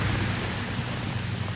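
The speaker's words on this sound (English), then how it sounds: "Ooh, it's raining on us." Steady rain falls outdoors on an open site where arrowheads and stone knives are being searched for, a dense continuous hiss with scattered drops and low rumbling, filling the clip without any voices.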